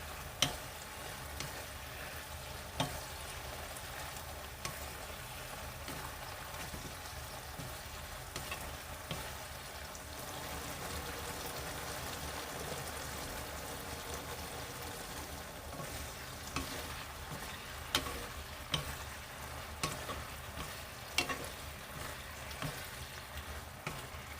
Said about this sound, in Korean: 이때쯤에서 이제 뚜껑을 열고 졸여도 돼요